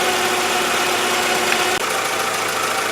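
A 1997 Toyota Camry engine idles as it warms up, a steady, close mechanical hum with faint vibration and one brief dip partway through, with no voices.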